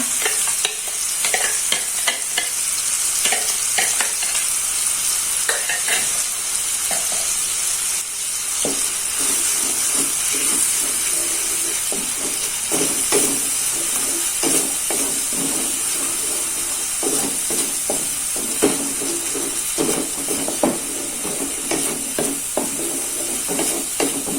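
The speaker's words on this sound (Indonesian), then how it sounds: "di sini untuk bumbunya ini akan saya gongso ya. Jadi saya tumis gitu" Spice paste for grilled catfish sautéing in a pan, a constant bright sizzle and hiss with repeated scraping stirs throughout, close and loud with no talking.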